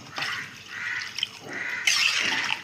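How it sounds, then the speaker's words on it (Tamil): Water pours into a pot for ghee rice, a steady close splashing stream that stops briefly and then comes back stronger toward the end, with no talk over it. "இப்போ தண்ணி நான் ஊற்றிட்டேன்."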